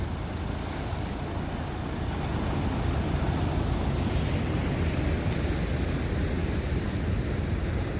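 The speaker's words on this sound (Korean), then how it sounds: "파도 소리가 장난이 아닙니다 지금" Steady roaring ocean surf on a Korean beach with waves washing in continuously, broad and loud, with some wind rumble and no voices.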